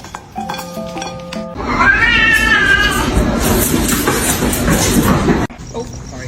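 A kitten meowing loudly and close, a drawn-out wavering cry that rises and falls over several seconds, preceded by softer tonal sounds and followed by quieter background noise.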